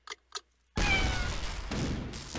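Two short cat meows sound first, then the cat weapon in the artillery video game Shell Shock Live fires with a loud, sustained blast and rumbling impact noise.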